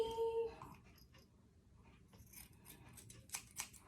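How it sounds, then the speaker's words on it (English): Scissors trimming a pet dog's hair and face at home: a quick series of quiet, crisp snips near the end, after a short high whine or voice at the start. "We trim your hair. We trim your face."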